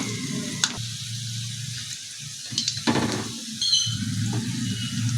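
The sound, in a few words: methu vada frying in oil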